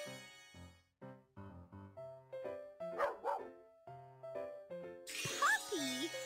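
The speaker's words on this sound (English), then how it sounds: "Puppy." A cartoon puppy in a Baby Panda children's game barks a few times near the end, after a run of bright tinkling musical notes, loud and close with game sound effects.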